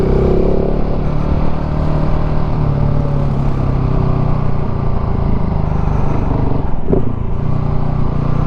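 A KTM 690 SMCR motorcycle fitted with a 15-tooth front sprocket pulls hard under acceleration, its loud, steady single-cylinder drone close and continuous throughout, with a brief clatter near the end.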